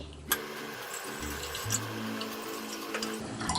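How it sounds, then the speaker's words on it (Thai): Cold water pours into a Bialetti Mukka Express pot, a steady close-up stream and splash that starts sharply, runs for about three seconds and then stops. "อ่ะต้องใส่น้ำเย็นเลย"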